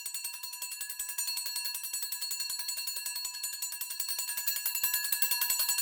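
Ship's bell sample pitched up until it rings like a triangle, struck in a fast steady tremolo of bright, high metallic pings that sustain continuously, close and alone.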